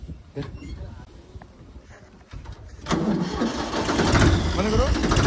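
A broken-down sound-system vehicle's engine cranks, then catches and runs loud and close from about midway, a rough steady roar with voices mixed in around it.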